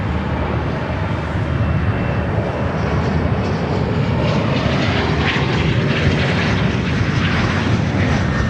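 An Atlas Air jet at Chicago O'Hare airport roars steadily, a loud broad continuous engine rumble with a whine on top and no talk.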